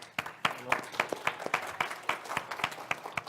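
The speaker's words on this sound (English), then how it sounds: "You are correct to applaud" A crowd applauds with dense, steady clapping that carries on throughout, moderately loud and close.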